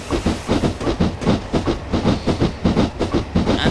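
A steam train in Train Simulator 2012 running at speed, with a loud, steady rhythmic chuff and clickety-clack pulsing several times a second, close up and with no voices over it.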